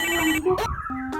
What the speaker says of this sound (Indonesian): Sik tak telepon Lastri sih ah.